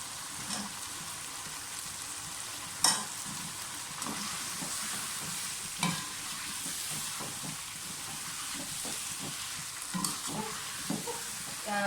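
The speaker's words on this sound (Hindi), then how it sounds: "चिकन के साथ सारा मसाला अच्छी तरह से भून गया है" Steady sizzling of spiced chicken frying in a pan, with a spoon scraping and stirring now and then, continuous and fairly close.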